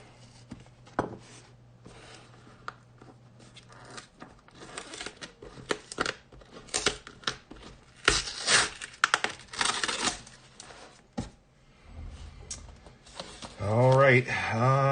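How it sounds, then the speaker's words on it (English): A mail package holding a US Mint coin order is cut open with a blade, giving scattered scraping, tearing and crinkling bursts of cardboard and plastic, close up. A voice joins near the end. "We're going to go ahead and cut this open and see what we got."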